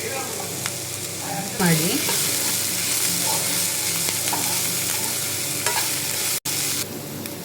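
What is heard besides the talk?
frying spices with turmeric in a pan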